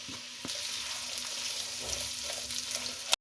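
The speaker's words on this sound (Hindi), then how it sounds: "2 मीडियम प्याज जिसकी मैंने स्लाइस में कटिंग कर ली है उसको डाल दें और उसको हल्का सा ही फ्राई करें बस।" Sliced onions sizzle in hot oil in a kadai, a steady close frying hiss with faint stirring, no voices over it.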